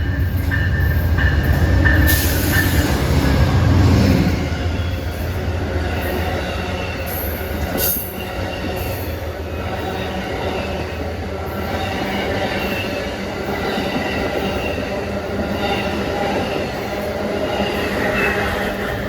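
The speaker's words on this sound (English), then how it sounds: "here comes Amtrak 95, Boston to Norfolk" Amtrak 95, running southbound from Boston to Norfolk on the CSX RF&P Sub in Virginia, rolls past close by with a loud, continuous rumble of railcars, rhythmic wheel clatter and occasional squeals, and no talk.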